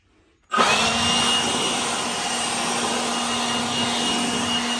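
A multi-purpose 450 CFM air blower dries a C8 Corvette after ceramic coating. After a moment of quiet it switches on abruptly into a loud, close, steady whooshing roar with a constant whine that holds to the end.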